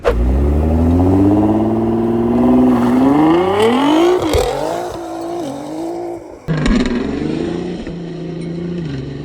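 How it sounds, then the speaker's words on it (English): A 550-horsepower Nissan GTR on a low boost map launches hard on ice, its engine roaring loud and close as the pitch climbs through the revs, then drops at a shift and pulls again. "I should launch off with all my 550 horsepower on my low boost map"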